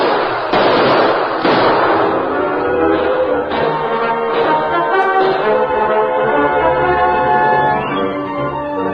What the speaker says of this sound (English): Keep up the gunfire, boys, and sneak your way in closer.